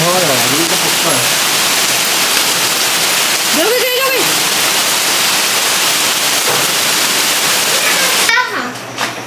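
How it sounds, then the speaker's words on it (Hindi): Heavy rain pouring steadily, a dense loud broadband roar throughout, with people talking intermittently over it and the noise dropping near the end. "तो यहाँ ना बारिश नहीं रुक रही है"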